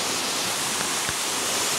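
Benarai waterfall gives a steady, full roar of rushing water, close and unbroken for the whole short stretch, with no voices.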